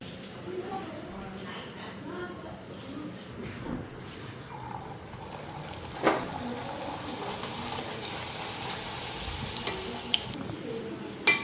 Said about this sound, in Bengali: এখন গরম গরম লুচিগুলি ভেজে নিই